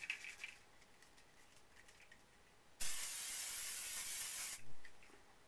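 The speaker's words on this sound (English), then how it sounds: "Spray glue the second copy of the front." Spray glue hissing onto a butterfly greeting card, a single steady, fairly loud burst lasting about two seconds, alone with no talk.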